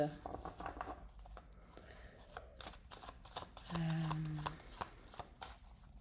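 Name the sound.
shuffling tarot cards for a reading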